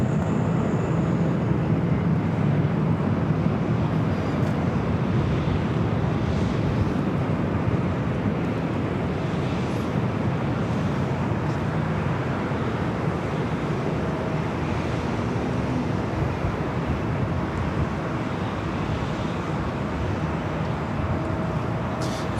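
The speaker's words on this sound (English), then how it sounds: "That was a Southwest flight heading to Albuquerque, New Mexico." A Southwest Airlines jet takes off from runway 24 Left at LAX, a steady broadband roar that carries through the whole stretch, heard from a distance with a wind-like wash and no voices.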